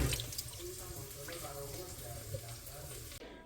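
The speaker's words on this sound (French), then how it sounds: "Juste lave avec de l'eau tiède." Lentils being washed by hand under warm running tap water in a sink, a soft continuous splashing trickle with brief stirring sounds, fairly faint and close.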